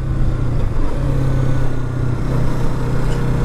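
Stunt motorcycle engine running with a steady, loud mid-pitched drone and slight rises in revs while the rider kneels on the seat and sits on the gas tank, close and continuous.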